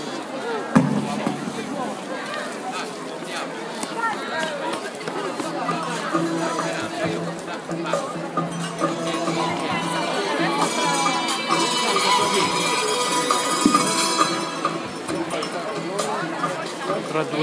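Crowd lining both sides of a street in Oristano for a travelling live nativity procession, a steady murmur of many voices with scattered bumps and footsteps, while a narrator speaks over it.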